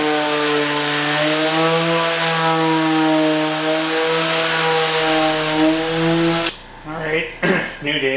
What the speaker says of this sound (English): A little more sanding on the back side.